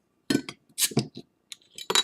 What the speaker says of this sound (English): let's go ahead and pop it open and get into said beer.